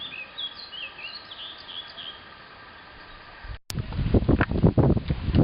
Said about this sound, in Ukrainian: Тут можна послухати пташок, як співають